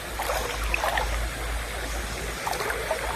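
A clear, natural river in Bicol runs over rocks, giving a soft, steady rush with light bubbling and trickling close by, fairly quiet and with no voices.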